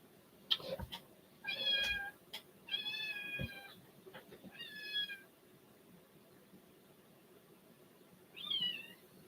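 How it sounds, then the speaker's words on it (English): A kitten meows several times in a row, short high cries clustered close together, then falls quiet before one last meow, close by in a quiet room. "Got to work around this kitten."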